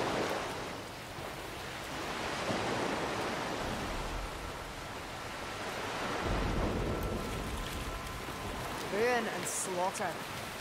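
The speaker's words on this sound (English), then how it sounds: "Oh great, rain and fog again." Steady rain hisses through a stormy scene in Warhammer: Vermintide, with low thunder rumbling beneath and a few brief game sounds near the end.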